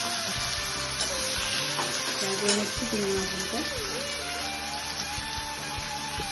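Prawns sizzle and fry steadily in hot oil in a pan for Bengali bhatkorla chingri, a continuous close hiss under a person talking throughout.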